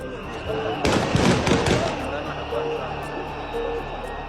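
Warning gunshots at a Kenyan Gen Z street protest: a dense burst of sharp, loud cracks packed into about a second, over a steady murmur of crowd noise that carries on afterward.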